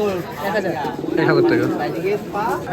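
A pigeon coos in low, throaty rolling calls, close by at a pigeon market, with a voice talking underneath.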